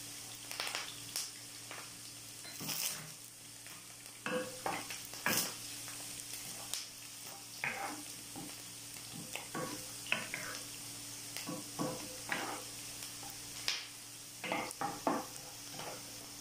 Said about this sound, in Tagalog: Hintayin lang natin na medyo lumabas yung kanyang pinaka-aroma ang bawang, pero huwag natin hintayin na masunog.